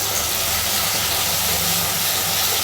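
Tomato, onion and brinjal sauté in oil for a sukku milagu kulambu, giving a steady, even hiss of frying that holds at a constant loud level without a break.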